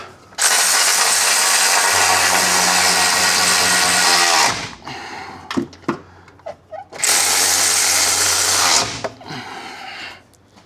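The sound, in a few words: power tool tightening bolts on a Holden V8 differential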